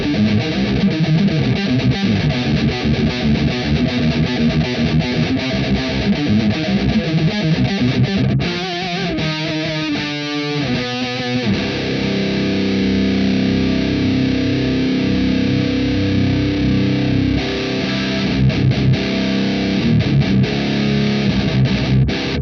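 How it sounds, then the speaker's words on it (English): Heavy death-metal guitar with maxed gain played through a This Heavy Earth Flesh Rot amp sim straight into the cabinet with no EQ or effects: dense, saturated chugging riffs, loud and continuous, with a brief choppier, stuttering passage partway through. "this is the amp straight into the speaker cabinet. There's no EQ or effects on yet"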